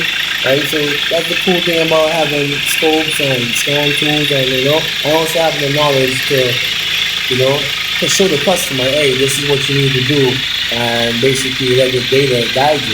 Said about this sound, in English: This engine is very loud